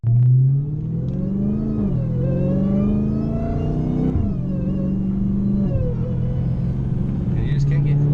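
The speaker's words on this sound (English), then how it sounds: "That's just enough to hear the intake on the supercharger." A supercharged Dodge Hellcat engine rumbles at light throttle with the supercharger intake whine audible, holding a steady deep tone that rises and dips in short surges, close and loud throughout.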